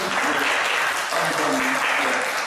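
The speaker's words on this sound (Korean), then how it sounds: "다시 한번 박수" A Baptist church congregation applauds, a steady wash of clapping that lasts the whole moment with faint voices murmuring underneath.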